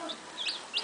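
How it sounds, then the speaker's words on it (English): A mother hen with her chicks gives a brief series of soft, high clucks, close and quiet, alone without speech. "Mother hen."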